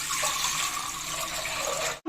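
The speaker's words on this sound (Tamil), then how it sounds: "நான் வந்து ஏழு டம்ளர் தண்ணி அளந்து வச்சுருக்கேன் அதை அதில் சேர்த்துக்கிறேன்" Seven tumblers of water poured into a pressure cooker for rava pongal make a steady, close, continuous splashing rush that stops abruptly at the end, with no talking.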